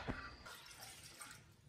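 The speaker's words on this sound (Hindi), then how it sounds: "देखो पानी डाल रहा चाय में" Water is poured into a cup of tea, a soft, quiet trickle and splash lasting under two seconds, with no one talking.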